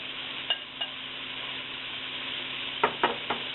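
Beef pieces sear in hot oil for a stew, giving a steady close sizzle with a few sharp clinks and scrapes as the meat is turned, two near the start and three near the end.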